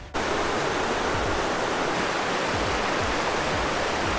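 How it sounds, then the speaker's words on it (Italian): Steady, loud roar of the Po as a mountain torrent near its source at the foot of Monviso, a continuous broadband rush of water that starts abruptly and holds constant throughout with no voices. "Lo scroscio di sottofondo che sentite dietro è il Po."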